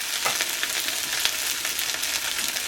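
Potato rösti fries steadily in an oiled pan after being flipped, giving a close, even sizzle with small crackling pops throughout and no voices.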